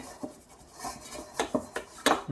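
Butter being spread around a metal baking tin for a brioche crown: quiet scraping and rubbing strokes with a few light clinks, spaced irregularly, close by and with no talking.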